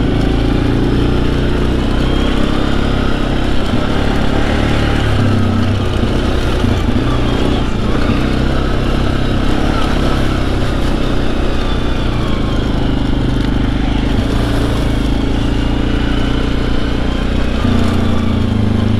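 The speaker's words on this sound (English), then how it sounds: "I can barely feel the rotations of this engine." A Suzuki KingQuad ATV engine drones loudly and continuously while being ridden, a steady close-up motor roar with little variation in pitch throughout.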